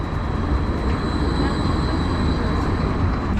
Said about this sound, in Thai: มีรถไฟอย่างเงี้ยดีมากเลยนะ